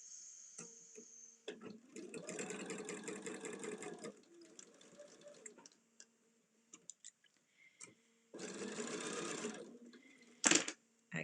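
Sewing machine stitching straight through pinned quilt block pieces, running in a few short bursts of whirring stitches with clicks and small handling noises between them, close and moderately loud.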